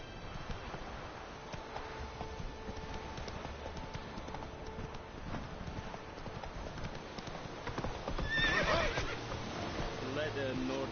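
Horse hooves clip-clopping at a gallop in the video game Witcher 3, with whinnies and neighs rising near the end, steady and mid-distance under ambient game sound, with speech present.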